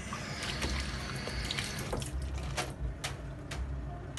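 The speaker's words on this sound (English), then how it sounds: "so I wash my hand first again." Tap water runs and splashes as hands are washed at a kitchen sink while cooking a Jamaican ital soup, a steady close trickle broken by a few sharper splashes and clicks.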